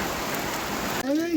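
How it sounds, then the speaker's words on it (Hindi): Heavy mountain rain hisses steadily and loudly for about a second, then cuts out as a brief sliding tone and talk take over. "ये देखो कितनी बारिश हो रही है।"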